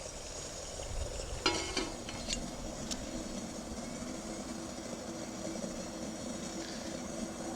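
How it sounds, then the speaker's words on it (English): Steady hissing roar of water boiling on a small Whitebox camping stove, with a few faint metallic clinks early on, close and continuous. "I think that boiling noise will stop once it's done."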